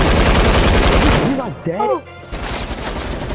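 Rapid automatic gunfire from the video game Fortnite, loud and sustained, cutting out briefly mid-burst before resuming, with players talking over it.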